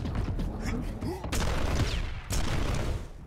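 Gunfire in a first-person shooter video game, heard as a few sharp shots and short bursts at moderate volume under a busy layer of game noise across a few seconds.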